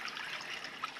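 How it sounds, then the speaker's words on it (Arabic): River water flowing steadily outdoors in the countryside, a continuous close trickling and rushing wash with no pauses, unaccompanied by voices. "الواد هنايا. هنا كاين الواد. الماء تبارك الله من هنايا."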